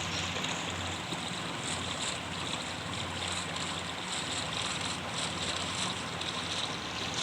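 A boat moving straight across open water, with a steady engine drone mixed with rushing water and wind buffeting the microphone, continuous and fairly close.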